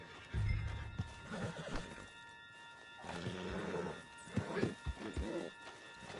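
A horse whinnies loudly near the start in Red Dead Redemption 2, followed by clip-clop hoofbeats and snorting over a low rumbling game backdrop, with a few faint voices.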